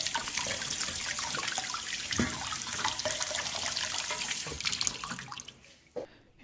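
Water pours and splashes steadily over blue swimmer crab pieces being cleaned in a kitchen, a loud continuous rush that cuts off abruptly near the end.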